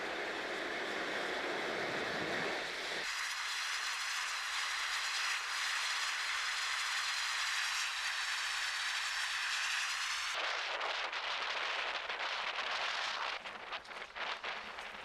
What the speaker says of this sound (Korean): 유황 냄새 나는 뜨거운 증기가 수많은 분기공을 통해 끝없이 배출된다